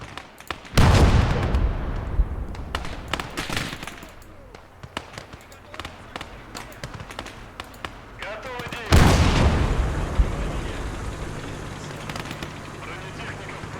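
Wartime battle scene in a strategy game on a southern front, where two heavy booming artillery blasts land several seconds apart, each followed by scattered crackling gunfire, with talking heard through part of the fighting.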